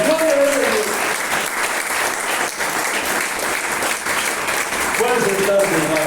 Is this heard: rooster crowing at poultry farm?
no